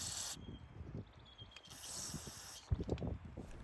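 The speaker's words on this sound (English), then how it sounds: "use compressed air or brake cleaner to blow out all that dirt" Compressed air or brake cleaner sprayed in short hissing blasts into the seal pocket of a surging lawn mower, blowing out dirt, two or three bursts with brief gaps, close and moderately loud, with some clattering handling noise.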